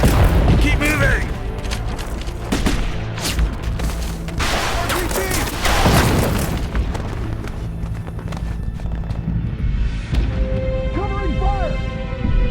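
Gunfire and explosions from a Call of Duty battle scene, with dense overlapping shots and booms running throughout at high level, under shouted in-game voices.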